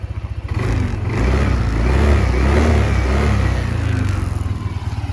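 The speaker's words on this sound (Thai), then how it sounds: "นี่ครับจะเร่งเสียงเครื่องให้ฟัง" A Yamaha Nmax 155cc scooter engine, held at a steady fast idle and then revved, giving a loud close buzzing drone that swells and settles over several seconds.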